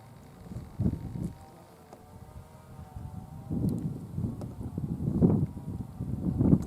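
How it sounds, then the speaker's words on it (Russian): Wind buffets a microphone outdoors beside a potato patch, in uneven low rumbling gusts that swell and fade several times, strongest near the end. "Но естественно у нас ветер."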